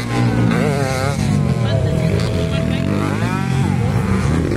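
Motorcycle engines roar loud and continuous during a local enduro final heat, with rising and falling revving whines over a steady low rumble, mixed with excited voices talking.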